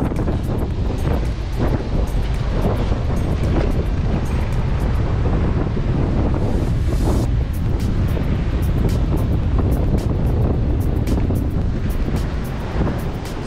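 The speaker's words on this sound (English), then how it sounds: "it's really really windy" Strong gusting wind roars across the microphone on a beach road between a river and the sea at Padukere and Mattu Beach, loud and continuous for the whole stretch with no pauses.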